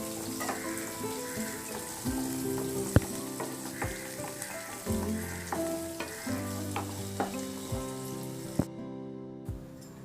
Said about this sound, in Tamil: எண்ணெயிலே நல்லா இதை வதங்க விட்டுக்கலாம்